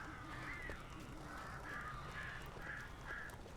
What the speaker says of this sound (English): That's a lot of birds.